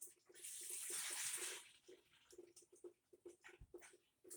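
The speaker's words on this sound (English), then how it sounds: "Get the juice poured in." Concentrated grape juice for a Moscato wine kit pours in a steady rushing splash for about a second and a half, then gives way to faint drips, clinks and soft handling noises nearby.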